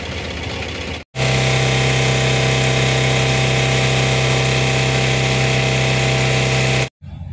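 Tata Ace Gold mini truck engine with a starting and alternator fault, revved hard and held at a loud, steady high drone for several seconds before cutting off abruptly.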